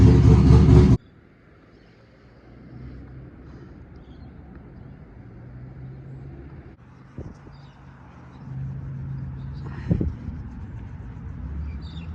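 A car engine idles after a power steering repair, a low steady hum at moderate level with occasional clicks and a brief louder burst, preceded by a short loud noise at the very start.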